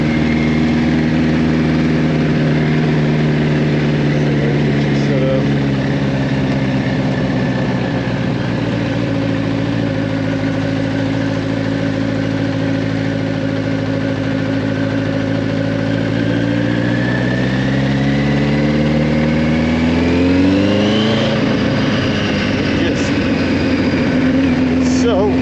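A 1983 Kawasaki GPZ1100 motorcycle riding on the road, its engine droning steadily and close for over twenty seconds, with a smooth rise in pitch as it accelerates near the end under rushing wind noise.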